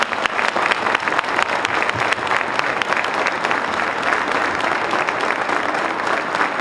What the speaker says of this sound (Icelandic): Við skulum gefa henni gott klapp.